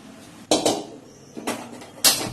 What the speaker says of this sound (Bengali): গ্যাসটা করে দিলাম, কড়াই বসিয়ে দিলাম